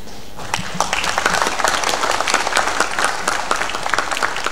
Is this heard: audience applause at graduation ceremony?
yes